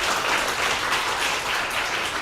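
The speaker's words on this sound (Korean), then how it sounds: "큰 박수 부탁드립니다" An audience at a book talk and Q&A claps in a thick, steady burst of applause that stays loud and continuous for the whole stretch, with no talking over it.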